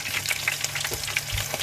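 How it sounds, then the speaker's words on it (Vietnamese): Battered crab frying in hot oil, a steady dense sizzle and crackle that continues evenly throughout, close and fairly loud. "Rồi đầu chiên con ghẹ."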